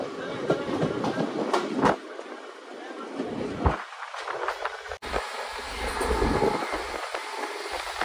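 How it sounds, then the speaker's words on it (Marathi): An express train speeding along the tracks, heard from beside a gate as a fast rushing roar with rhythmic clickety-clack of the wagons, moderately loud, with people talking over it. "एकदम सुसाट चालली ट्रेन एक्सप्रेस"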